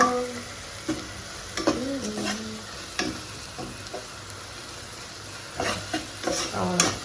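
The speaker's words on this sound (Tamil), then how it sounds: "இஞ்சி பூண்டு பேஸ்ட்டு போட்டு நல்லா பச்சை வாசனை போக வதக்கிக்கலாம்" Ginger garlic paste sautés in a pan, a soft steady sizzle broken by the close scrape and clink of a spoon stirring at irregular intervals.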